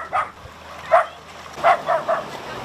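Dogs on Cô Lin island bark outdoors in several short yips and barks at moderate distance, over a steady background hiss.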